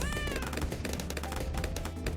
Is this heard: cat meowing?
yes